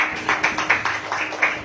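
A church congregation claps hands together during a sermon, a quick run of rhythmic claps repeating evenly at moderate volume.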